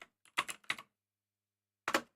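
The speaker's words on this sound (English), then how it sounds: "But he hasn't finished typing yet." Quiet bursts of computer keyboard typing, two quick clusters of keystrokes, a pause, then another short burst, with no talk.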